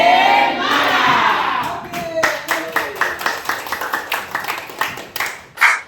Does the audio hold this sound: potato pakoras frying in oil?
no